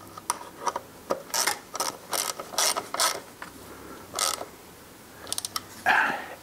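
Ducati Scrambler fender eliminator bolts being tightened with a 6mm Allen ratchet, a series of close, quick ratcheting clicks in short bursts with brief pauses between them.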